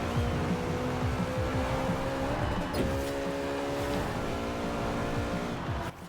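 A stock 2002 Ferrari Enzo V12 in Forza Horizon 4 revs hard and climbs through the gears, pitch rising and dropping at each shift, loud and close with brief tyre squeal and no talk.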